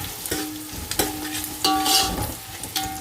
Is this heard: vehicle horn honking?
no